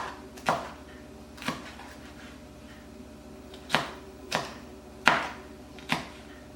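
A knife slicing peppers for chicken fajitas on a board, about seven distinct, fairly faint chops at an uneven pace with quiet pauses between.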